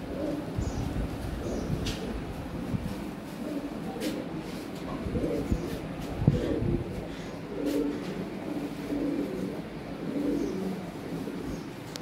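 Red Lahori pigeons cooing softly at a pigeon seller's, faint repeated low coos amid background bird chirps and a murmur of distant voices.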